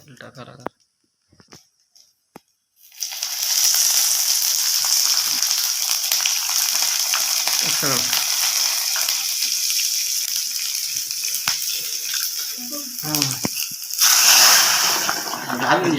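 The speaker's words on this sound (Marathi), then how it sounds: "फोडणी बघा तुम्ही आवाज कसा येतो फोडणीचा" Garlic tempering poured into hot oil on a hot stone bursts into a loud, steady sizzle after a few quiet taps, then a second, louder flare of sizzling near the end, heard up close.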